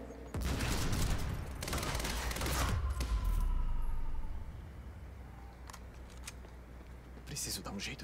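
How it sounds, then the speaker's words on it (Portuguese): In Quantum Break video game, a submachine gun fires in rapid bursts, loud and close, with a crackling rattle of shots in the first seconds and another short burst near the end. "Vamos ver como que é essa SMG aqui. Olha, parece bem boa. Parece bem, bem concentrado os tiros,"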